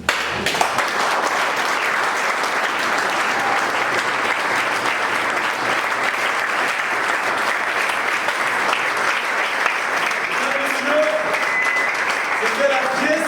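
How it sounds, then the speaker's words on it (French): Steady, loud applause from a theatre audience after a stage play, sustained clapping throughout with a brief voice near the end. "Applaudissez très fort, s'il vous plaît."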